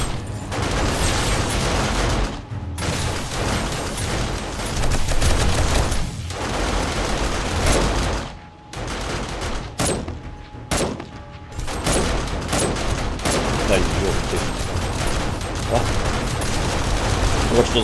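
Gunfire in the 7 Days to Die video game, dense bursts of rapid shots and mechanical clatter that continue almost without pause, loud and close, with someone talking over parts of it.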